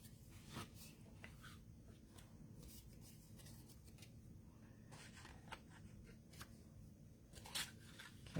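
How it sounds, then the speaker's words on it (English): Scissors snip through a sheet of white paper to cut out a penguin body for a Christmas tag, with a steady run of close, crisp little cuts and paper rustles in a quiet room. "I'm going to take a white piece to cut the body"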